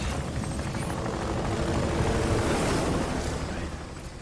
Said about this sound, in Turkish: O helikopterler falan. Apache mi bu?